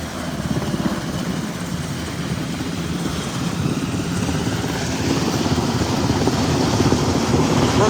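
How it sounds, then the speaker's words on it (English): Rescue helicopters lift stranded people off the roof of Unicoi County Memorial Hospital, a steady, broad rotor and engine roar that holds throughout and slowly grows louder, with no voices over it. "they are rescuing people from the roof of Unicoi County Memorial Hospital using helicopters to lift"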